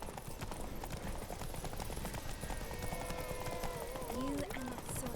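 Steady rapid clip-clop of the horse Roach's hooves galloping in a video game, continuous and fairly close, with voices talking over them.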